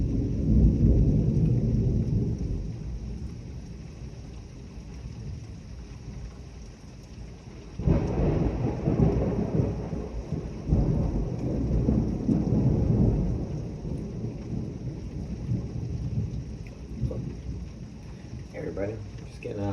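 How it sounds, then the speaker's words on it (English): A thunderstorm with pouring rain outside a front window on June 27, 2025: steady heavy rain with deep rolling thunder that swells, fades, then booms again mid-way. "Hey everybody, just getting a storm"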